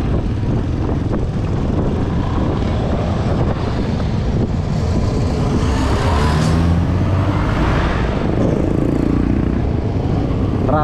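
Continuous road traffic rumbling and passing close by during a Vespa scooter ride near roadworks between Lucena City and Tayabas, Quezon, mixed with buffeting wind noise on the microphone.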